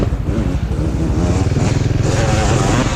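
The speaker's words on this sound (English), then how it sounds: "Guy in the two-stroke go by." A two-stroke quad races past at a GNCC off-road event, its engine a loud, buzzing, steady drone close by for about three seconds.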